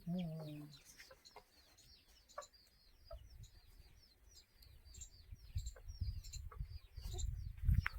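Desi roosters and hens on a village poultry farm cluck and call repeatedly in short, overlapping bursts. Low rustling and shuffling build up toward the end, with mid-distance bird chatter throughout.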